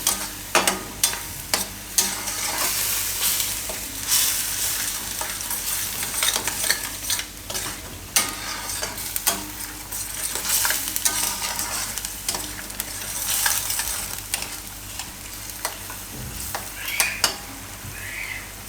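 Yogurt going into a frying paneer and broccoli curry on medium heat, with a continuous sizzle and repeated spoon scrapes and clatters against the pan throughout, close and fairly busy, no voices.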